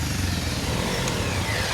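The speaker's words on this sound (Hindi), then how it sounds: "आज हम बाइक पे चल रहे हैं" Motorcycle engine running steadily and close, a continuous low rumble throughout with no talk over it.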